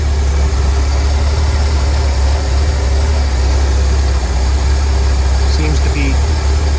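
An Opel Corsa engine idles steadily and smoothly around 700 rpm after a starter-fluid start, a loud, constant low drone close by with no change in pace.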